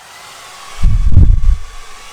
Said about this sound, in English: Now I'm going to use the lowest fan setting and the lowest heat setting, and hold the cool button in.